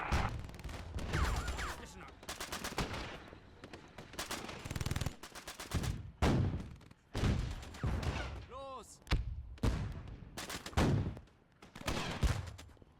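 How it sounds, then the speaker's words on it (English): Gunfire and heavy bursts in Theatre of War 2, a World War II strategy game set at the Kasserine Pass in Africa in 1943, with British forces. Irregular loud shots and rattling volleys sound near and far, and people talk between them. "Somebody's shooting at us."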